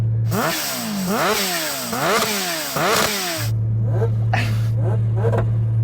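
A supercharged Kawasaki H2R motorcycle with a noisy exhaust revs hard in loud, rising and falling bursts close by, roughly four sharp throttle blips, then settles to a steady idle punctuated by a couple of brief revs.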